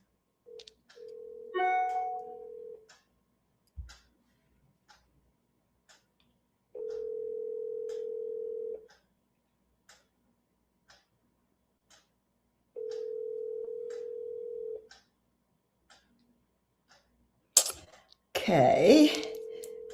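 Telephone call ringing out unanswered: three long, steady ringback tones repeat at regular intervals with short clicks between them, then a brief burst of handling or voice noise at the end.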